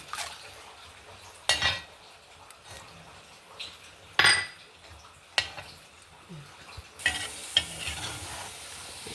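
Raisins sizzle in hot oil in a pan for a crispy South Indian mixture snack, with steady frying hiss broken by several sharp scrapes and clinks of a spoon stirring against the pan.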